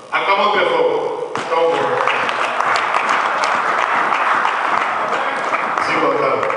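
A church congregation applauding loudly and steadily for several seconds, with voices mixed in under the clapping.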